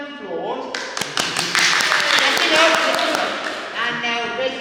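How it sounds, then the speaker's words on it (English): A round of applause from a museum audience at the Black Country Living Museum, claps sharp and dense at first, then thinning and trailing off, heard under a voice speaking over it. "We'll give him a round of applause."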